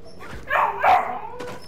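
A creature in the video game Star Wars Jedi Fallen Order gives two short, yelping bark-like calls, close and fairly loud, with faint game noise in between.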